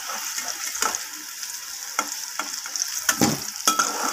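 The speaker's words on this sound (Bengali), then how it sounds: "আলুগুলো আমার ভাজা হয়ে গেছে, এর থেকে আর বেশি ভাজার প্রয়োজন নেই।" Potato pieces frying in a pan of hot oil give a constant close sizzle, broken by sharp clicks and scrapes of a spatula stirring them.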